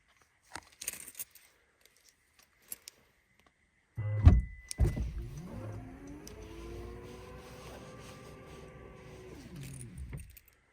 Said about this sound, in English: Then I'm going to start the car and warm us up a little bit